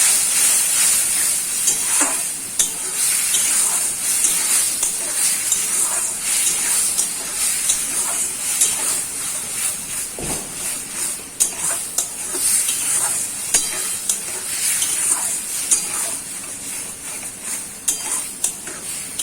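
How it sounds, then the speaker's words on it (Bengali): Raw mango pieces with turmeric and salt being stirred and fried in oil for a chutney, a loud continuous hissing sizzle close by, broken by regular scraping stirs of a spoon across the pan. "এইবার ভালো করে তেলে নেড়ে নেব।"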